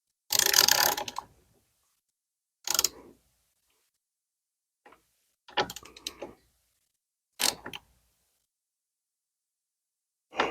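A ratchet with a 10 mm socket tightens a nut on the battery terminal of a fifth-generation Ford Explorer. Close clicking bursts of the pawl come in several separate runs, some long and some short, with pauses between them. No one talks.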